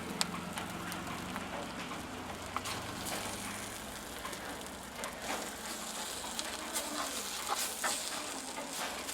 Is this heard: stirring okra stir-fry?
yes